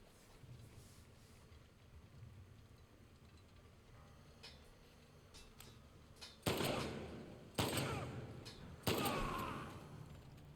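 Pistol fire in The Last of Us Part 2 on Grounded difficulty in a mall: three sharp, loud shots spaced about a second apart, rising out of a quiet, low ambient background.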